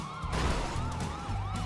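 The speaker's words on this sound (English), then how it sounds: "Ambulance." An emergency siren wails in Grand Theft Auto V, its pitch sweeping up and down in repeated cycles over rumbling traffic noise, moderately loud and fairly close.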